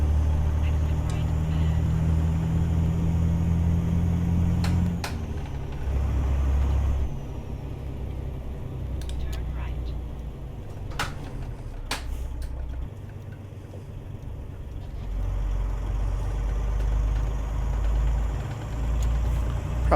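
Detroit DD60 diesel engine in a Freightliner FLC truck in American Truck Simulator, a steady low engine drone that shifts pitch a few times, with brief sharp hisses and clicks scattered over it.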